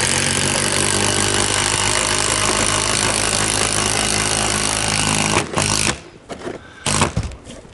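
A power tool drives a QuickBolt solar anchor into a shingled roof, a loud continuous grinding whir for about five seconds, then cutting out into a few short bursts.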